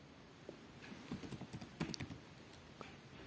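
A folder name is typed quickly on a computer keyboard, a quiet cluster of light key clicks and taps over a few seconds in an otherwise hushed room.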